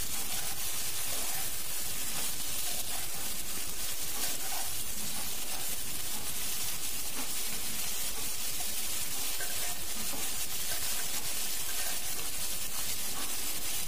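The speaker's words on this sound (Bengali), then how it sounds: "উল্টে পাল্টে নেড়ে চেড়ে ভালো করে ভাজা ভাজা করছি।" Ginger frying in oil in a pan for khichdi while being turned and stirred, a steady close sizzle and hiss with faint scraping throughout.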